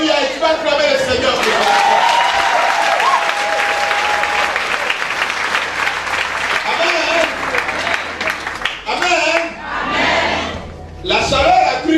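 A church crowd erupts in loud sustained cheering, shouting and applause to acclaim the Lord, a dense roar that dips and surges again near the end.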